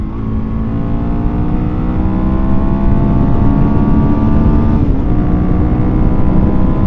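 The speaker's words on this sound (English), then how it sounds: "my bike's running nice today" A Suzuki DRZ400SM motorcycle engine drones loudly and steadily while riding, its tone rising and falling slightly, with rushing wind noise throughout and no speech.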